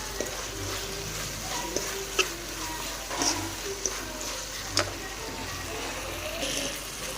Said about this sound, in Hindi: इस तरह से हम सेवइयाँ डाल देंगे जो हमने उबाल के रखी थी। अच्छे से मिक्स कर लेंगे।